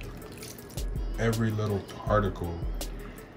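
Water swishes and splashes in a basin while sea moss is massaged and washed by hand, with people talking over the watery sounds at close range.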